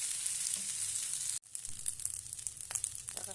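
Sausage fried rice frying in a small Teflon pan, with a steady loud sizzle broken by a brief drop, then scraping and stirring strokes amid continued crackling.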